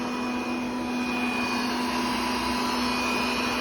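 An OKP K8 robot vacuum cleaner runs at maximum suction with a loud, continuous rushing roar and a steady motor whine on top, unbroken and close, with no talking.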